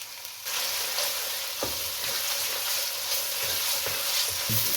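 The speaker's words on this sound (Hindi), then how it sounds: "लहसुन अदरक पेस्ट के साथ इसको भून लें।" Minced meat keema frying in a pan with garlic ginger paste gives a steady close sizzle with occasional stirring scrapes, and no one speaks over it.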